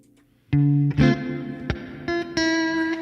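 An electric guitar runs through a Line 6 Helix Stadium XL with the Cosmos Echo effect: a handful of picked notes and chords ring out in the open, each trailing into shimmering, repeating echoes.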